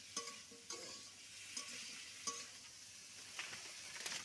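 Mango pieces sautéing in a pan for a fish curry with potatoes, a faint steady sizzle with a few spaced spatula knocks and scrapes against the pan, no speech.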